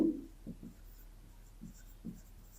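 A pen writes out a maths solution on paper, giving soft, close scratching strokes in short separate bursts with quiet gaps between them.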